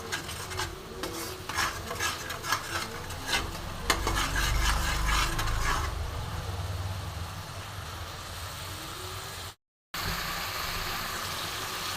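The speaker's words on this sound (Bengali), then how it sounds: "খুব সুন্দর করে মশলাটা আমি কষিয়ে নেব।" Spice masala being stirred and fried in oil in a pan while cooking a coconut and nut dish, with a steady scraping, rasping stir over soft sizzling that eases off after about six seconds, followed by quieter frying.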